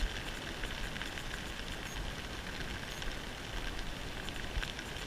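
Heavy rain falls at Loch Awe as a dense, steady hiss of broadband noise with faint pattering, quiet and unbroken, with no talking heard.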